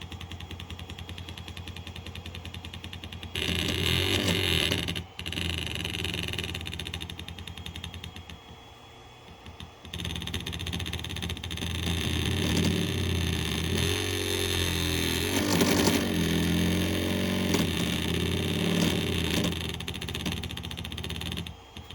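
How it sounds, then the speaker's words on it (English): A malfunctioning 3D printer roars and rattles like a motorcycle, a loud, continuous mechanical drone with gritty pulsing and brief dropouts, running alone without speech. "My printer decided it didn't want to print anymore and just wanted to be a"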